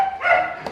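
A single short bark or yelp from a dog at a feeding program for dogs on a farm, loud and close, with a faint second yip right after.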